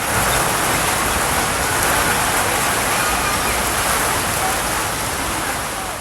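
Heavy rain from a Kalbaishakhi storm pours down in a dense, steady hiss that stays loud and unbroken throughout, with no voices.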